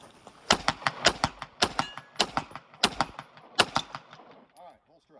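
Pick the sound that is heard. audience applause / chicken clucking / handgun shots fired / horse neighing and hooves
handgun shots fired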